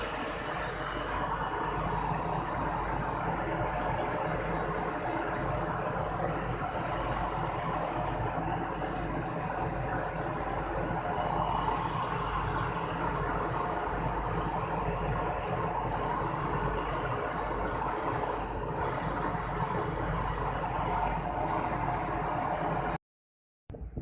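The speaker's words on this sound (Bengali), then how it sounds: "ইনপুট দিয়ে দিলাম মেশিনটা কিন্তু রানিং হয়ে গেছে" A textile sliver machine runs in a factory with a continuous loud mechanical drone and a steady hum, unchanging for the whole stretch before it cuts off abruptly at the end.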